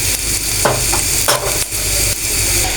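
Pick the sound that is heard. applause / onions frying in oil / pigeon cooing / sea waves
onions frying in oil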